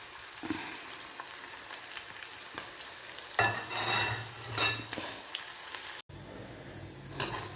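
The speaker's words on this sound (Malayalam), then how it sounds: "നമ്മുടെ മുളകും വെളുത്തുള്ളിയും ഇഞ്ചിയൊക്കെ നന്നായിട്ട് വറുത്ത് വന്നിട്ടുണ്ട്" Chilies, garlic and ginger frying in hot oil for a dried-fish pickle give a steady close sizzle with stirring scrapes, swelling into louder crackling bursts midway, a momentary cutout, then sizzling again.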